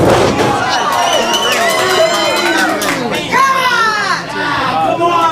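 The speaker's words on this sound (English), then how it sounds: "The crowd is just settling in." Crowd at the opening match of a wrestling show, a dense roar of many shouting and cheering voices, including high children's shrieks, rising and falling loudly throughout.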